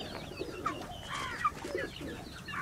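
A pair of silver Mukhi fancy pigeons coo softly and close by in short, warbling calls over a quiet background.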